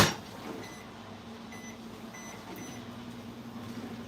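A microwave oven hums steadily as it slowly melts butter, a low constant drone with faint high tones, alone with no voices.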